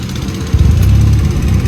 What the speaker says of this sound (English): then you will hear the exhaust.